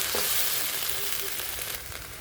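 Fritters fry in a pan of hot oil with a steady, close sizzle and crackle throughout, with no talking.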